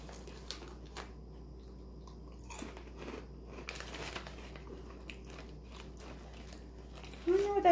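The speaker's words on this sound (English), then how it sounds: "It's crunchy like a cheese doodle. It's like a Cheeto." Close crunchy bites and chewing of a Thai cheese puff snack, a few crisp crunches spread across a quiet room with faint background hum.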